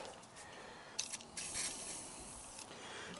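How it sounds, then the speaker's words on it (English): Quiet, short hissing bursts of WD-40 aerosol spray aimed at the petrol tank tap of a Yamaha XJ900S motorcycle, a few separate squirts against a faint background. "Spraying it with WD-40."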